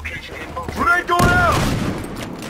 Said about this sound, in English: I'm fucking taking heavy fire!